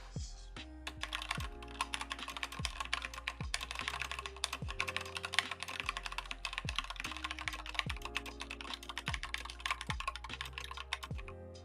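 Rapid typing on a computer keyboard during Neovim editing practice, dense close-up key clacks in quick bursts with short pauses, steady throughout.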